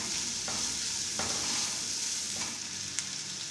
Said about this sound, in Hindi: अब इसके अंदर शिमला मिर्च ऐड करेंगे। शिमला मिर्च को भी हल्का सा पका लेंगे।